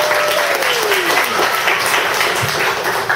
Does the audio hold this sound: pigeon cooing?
no